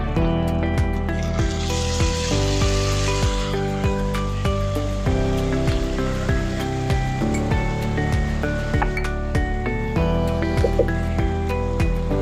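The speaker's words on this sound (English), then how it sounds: "Once the tofu has been browned on all sides, then I'm going to add the sauce there." Sauce poured into a hot pan of browned tofu, giving a steady, close crackling sizzle that hisses continuously without pause.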